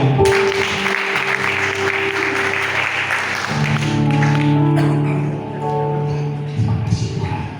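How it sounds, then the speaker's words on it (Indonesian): Applause from a church congregation during a praise and worship service, with broadband clapping throughout, sustained organ or keyboard chords underneath, and a brief lull near the end. "Tepuk tangan untuk kemuliaan Tuhan."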